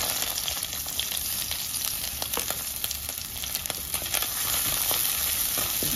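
Chopped onions hit hot oil in a pan, crackling and sizzling loudly and steadily with sharp pops and a few stirring scrapes, no voices over it.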